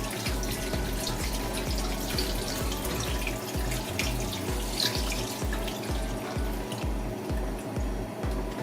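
Water pouring steadily from a tap into a soup pot of cabbage and carrot with seasonings, a continuous close splashing and rushing fill with faint drips, no talking.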